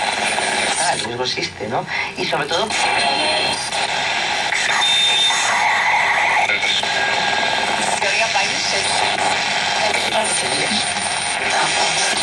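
A Philips radio receiver is tuned across stations, sweeping through whistles, warbling tones and hissing static, with broadcast voices and signals fading in and out.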